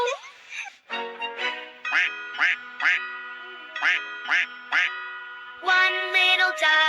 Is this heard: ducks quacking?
yes